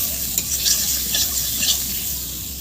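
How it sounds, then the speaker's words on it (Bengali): Turmeric powder frying in oil in a pan while being stirred, a soft continuous sizzle with gentle scraping strokes, close and steady, no talking. "হলুদটা দিয়ে আমি ভাজছি"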